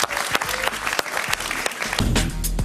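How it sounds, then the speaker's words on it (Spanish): Studio audience on a Spanish-language evening talk show applauds a guest, a full round of clapping with a few loud close claps, swelling into a denser burst near the end. "Un aplauso para ella."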